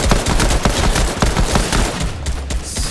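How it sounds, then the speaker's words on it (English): Rapid assault rifle gunfire in Fortnite, sharp repeated shots in quick bursts that stay loud and close throughout, with a brief lull near the end before more firing. "we're going to make our final stand here with the assault rifle"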